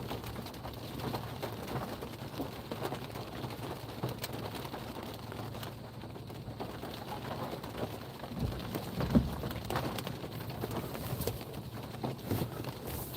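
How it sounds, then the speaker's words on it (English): Sharp, stinging rain pours down during a summer thunderstorm in southern Indiana, a steady broadband hiss of drops striking surfaces close by, continuous and fairly loud throughout with a few slightly heavier bursts and no talking. "Nope, just sharp stinging rain."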